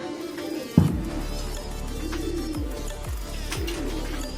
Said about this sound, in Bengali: এখানে সব নর পায়রাগুলো রাখা রয়েছে।